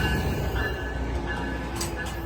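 An Amtrak Capitol Corridor train, train #527, hauled by a Siemens Charger SC44 locomotive, arrives at Oakland Coliseum Station, a steady rumble of wheels and rail noise with faint squeals, fairly close and continuous.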